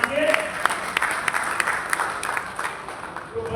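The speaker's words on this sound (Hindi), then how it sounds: "इनके लिए भी जोरदार एक बार ताली बजा दीजिए" An audience at a Delhi Ramlila event claps loudly for a member of parliament, a dense burst of applause with sharp individual claps that tapers slightly, a voice speaking over it.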